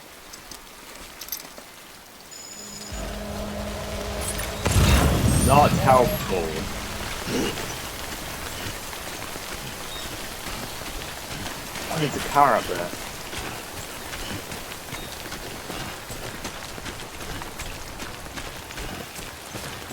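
Steady rain falls in the game Death Stranding, a continuous soft hiss of drops on surfaces running beneath occasional spoken lines and brief louder in-game noises.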